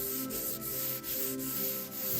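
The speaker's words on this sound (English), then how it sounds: "sanding it down a little bit" Fine 400 grit sandpaper rubs over polyurethane varnish on a red oak plank in steady back-and-forth strokes, a close, even hiss with a soft rhythmic pulse.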